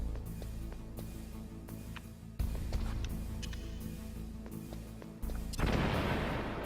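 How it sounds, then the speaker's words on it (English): Video game explosions in Metal Gear Solid: several muffled booms and thuddy bursts at irregular intervals, moderately loud, each leaving a low rumble under a quiet game backdrop. "And you do have to back up from the explosion because it will hurt you."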